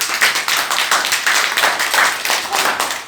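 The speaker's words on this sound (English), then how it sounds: "Come and give a big applause to him" Children in a classroom clap for a classmate, a loud, close burst of many small hands beating in an uneven, pulsing rhythm that continues without talk.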